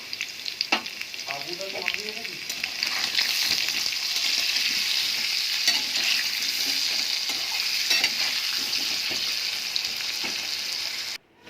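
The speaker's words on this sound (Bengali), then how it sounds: "আলুগুলো দেওয়ার পরে এবার দিয়ে দেবো নুন আর হলুদ দিয়ে ঢাকা দিয়ে ভালো করে ভেজে নেব" Potato pieces frying with salt and turmeric sizzle loudly in a pan while being stirred, a continuous close crackle with occasional scraping that stops abruptly at the end.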